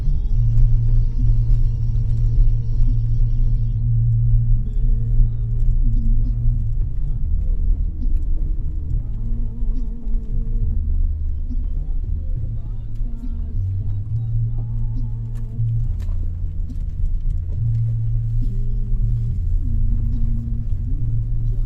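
An automatic car driving on a rough, patched road toward Liang Melas Atas gives a continuous low engine and road rumble from inside the cabin, with occasional faint knocks and rattles.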